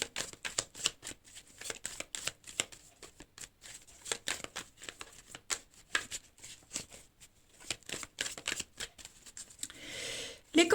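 Tarot-style cards are shuffled and drawn for a reading: rapid papery riffles and flicks, close and crisp, come in irregular bursts with short pauses, ending in a quick louder shuffle.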